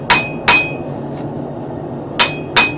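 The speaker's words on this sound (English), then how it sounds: "Hence why I'm hammering out a bevel right now." Hammer blows on a seax knife blade being forged, four sharp metallic strikes in two pairs with a pause between, close and loud against a quiet background.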